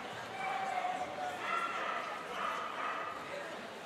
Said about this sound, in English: Francisco Medina Valdivia with the Spanish water dog, Sasha